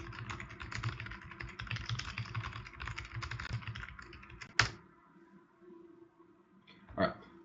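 Steady computer keyboard typing runs for several seconds at moderate volume, then stops with a sharp click, followed by quiet and one more brief click burst near the end.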